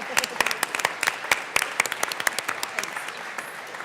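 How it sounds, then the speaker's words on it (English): Applause breaks out in the Colorado House of Representatives chamber during a 2024 legislative session, a burst of scattered claps that thins and fades over a few seconds, moderately distant with no talk over it. "we need to give him a huge round of applause."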